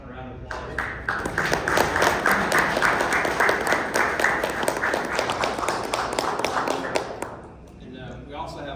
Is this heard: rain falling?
no